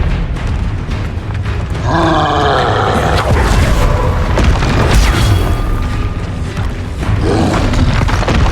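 Booming Confringo spell blasts in the Hogwarts Legacy video game, heavy low rumbles running throughout amid a chaotic combat mix with creature grunts and roars, loud and dense from start to finish.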